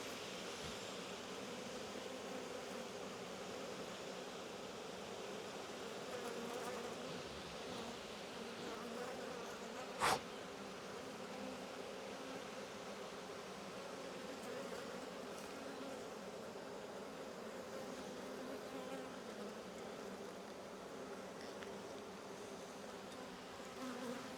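Honeybees from a queenless hive hum in a steady, dense drone throughout an apiary inspection, with one brief sharp click partway through and no voices.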